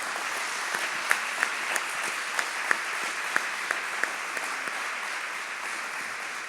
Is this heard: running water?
no